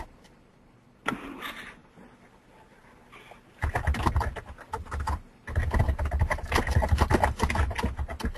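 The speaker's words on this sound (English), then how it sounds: "We are getting a little bit of background noise. I'm not sure if it's someone typing or other." Keyboard typing picked up as background noise on an open line during an online meeting, bursts of rapid clattering keystrokes that start, pause and resume, moderately close and with no talking.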